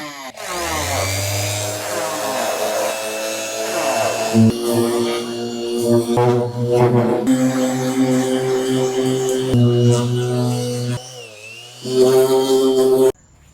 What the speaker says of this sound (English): Time to sand this front bumper.